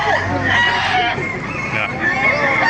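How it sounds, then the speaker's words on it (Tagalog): Chickens and roosters fill a busy poultry market in Baliuag, Bulacan, with loud overlapping crowing and clucking from many birds, close and continuous, with people's voices mixed in. "Mga manok dito."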